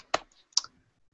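A computer keyboard gives two sharp, separate key clicks about half a second apart, close and crisp in an otherwise quiet room.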